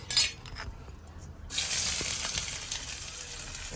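Chopped onion sizzling in hot oil for a village-style egg and potato curry, a steady bright frying hiss that swells after a brief quieter start.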